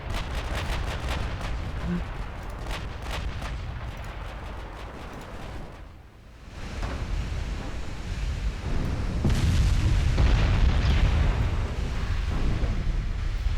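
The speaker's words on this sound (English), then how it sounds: "Oh, secondary's starting to kick in now. Look at that secondary fire." Rapid naval gunfire from the battleship Yamato's secondary guns in a video game, a dense, continuous barrage of loud booming shots with a brief lull before the firing swells even heavier.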